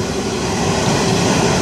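A Pacific National freight train rumbles steadily past nearby at Thornton, a dense continuous roar of wheels and cars with no break or voices.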